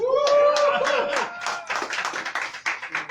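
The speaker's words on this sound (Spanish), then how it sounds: "vamos a dar con un fuerte aplauso su bienvenida" Audience clapping to welcome a comic book creator at a comics shop presentation, starting under a voice and turning into scattered, distinct hand claps that thin out toward the end.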